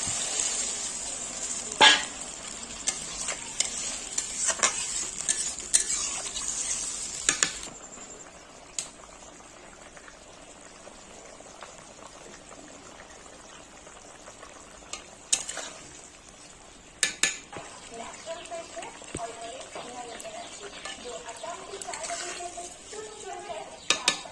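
Water added to a potato and pointed gourd curry in a pot, with an early hiss and bubbling, then intermittent metal spoon scrapes and clinks against the pot, while a voice speaks occasionally.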